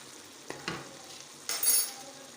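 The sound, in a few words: mutton chops frying in a pan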